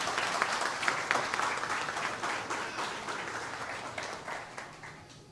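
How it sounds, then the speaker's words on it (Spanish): A crowd at a Christian family movement gathering claps steadily, a dense moderate applause that slowly fades toward the close. "Venga el aplauso"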